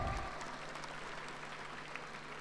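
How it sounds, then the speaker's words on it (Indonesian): Faint, distant applause from a university anniversary gathering, a soft wash of clapping after a brief louder start, low in level and without clear talk. "Okey, bagi tepukan."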